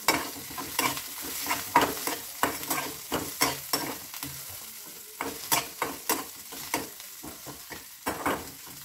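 Garlic frying in a pan for a bread pakoda snack while being stirred, with a steady sizzle beneath close, rhythmic scraping strokes of a spoon repeating roughly every half second.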